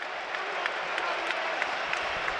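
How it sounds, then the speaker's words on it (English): A Premier League stadium crowd at Brentford v Burnley roars and claps steadily after a Burnley goal, a dense, loud wash of cheering with faint talk underneath. "The crowd enjoying that."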